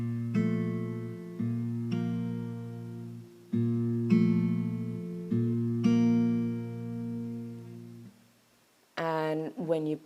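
An acoustic guitar plays short picked and strummed phrases from a song, with clear notes ringing out in separate bursts and brief gaps between them, close and moderately loud.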